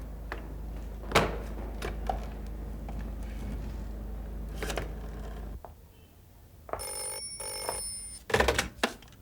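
A telephone bell rings in bursts during an indoor police-station scene, with a steady low hum and scattered clicks before a quieter stretch, then sharp electronic ringing near the end.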